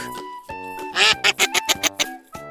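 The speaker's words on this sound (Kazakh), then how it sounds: "Duck." A duck lets out a quick run of loud, nasal quacks in a rapid series over a bright musical backing.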